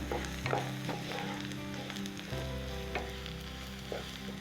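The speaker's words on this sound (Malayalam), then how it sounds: "എന്നിട്ട് നമുക്ക് നല്ല രീതിയിൽ അങ്ങോട്ട് ഇളക്കണം." Mushrooms frying with pepper powder while being stirred, a soft steady sizzle with scattered scraping stir strokes over a low background hum, fairly quiet.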